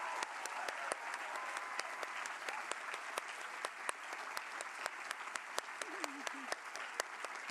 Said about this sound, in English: We're going to do a big round of applause for the 10 winners of the 2022 Writing Awards.